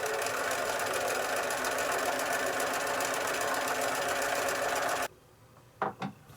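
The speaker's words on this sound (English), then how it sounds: "stitch this seam" A sewing machine runs steadily for about five seconds, stitching a quarter-inch seam through a disappearing nine patch quilt block, then stops, leaving near silence with a couple of faint clicks.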